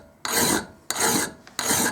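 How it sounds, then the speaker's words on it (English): Three long, rasping file strokes across a chisel clamped in a vise, close and loud, each stroke separated by a short pause, with no voices. "when you feel a resistance to the file, you'll feel it cutting"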